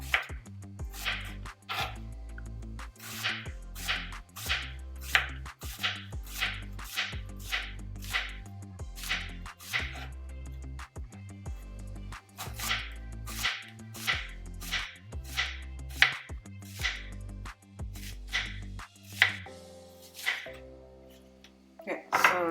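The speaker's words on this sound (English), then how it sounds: "So we're going to cut in slices." A knife slices zucchini into thin rounds in a quick, even rhythm of crisp close-up cuts, roughly thirty strokes with short pauses, and a voice talks faintly at times.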